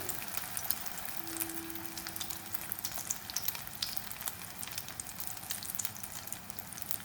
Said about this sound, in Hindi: तो शैलो फ्राई करेंगे, डीप फ्राई नहीं करेंगे।